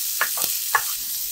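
Soft sizzling of meat for batikulon sautéing in a hot pan with a few scraping stirs of a utensil, quiet and close, no voices.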